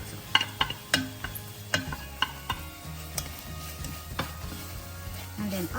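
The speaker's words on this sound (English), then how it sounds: "While this is sauteing nicely" Okra with saltfish, oregano and tomato sautés in a pan, with a soft steady sizzle broken by sharp scraping and tapping stirs from a utensil against the pan at irregular intervals.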